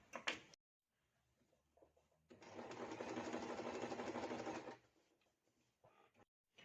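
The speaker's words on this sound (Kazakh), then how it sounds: "бел тігісін қазір машинкамен жүргіземіз" A sewing machine stitches the waistband seam of a pair of trousers during a zipper replacement, a steady mechanical whir of about two seconds bracketed by quiet handling clicks.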